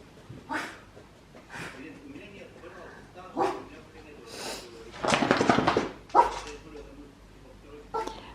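A small dog barks repeatedly in short bursts, with a louder flurry of yaps near the end, while a person talks nearby.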